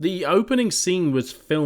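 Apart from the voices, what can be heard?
No everyday noise stands out behind the speech.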